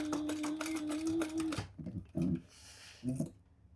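A sewing machine back-stitches a small wallet gusset held in place by hand, its motor whirring in a steady run for about a second and a half before breaking into a few short bursts with pauses between.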